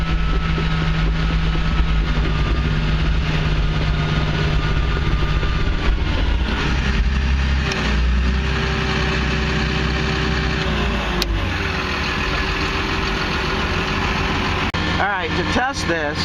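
Diesel engine of a CAT D6N dozer with an MC2 system, held at high RPM and hunting: a loud, steady mechanical roar whose pitch dips and shifts around the middle and again near the end.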